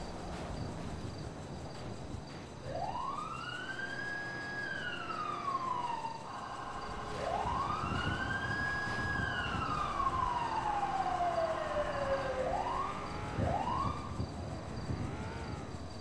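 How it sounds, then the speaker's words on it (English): Emergency vehicle sirens wail near a college, with long rising and falling sweeps and a few quicker yelps toward the end. They sound moderately distant over a constant low street rumble. "Like hearing them sirens"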